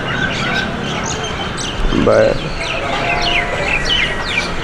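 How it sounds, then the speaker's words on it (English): Ducks at the Honolulu Zoo call and quack in short bursts over a steady outdoor wash. A louder squawk comes through near the middle, and a voice is briefly heard. "I guess this is ducks or whatever"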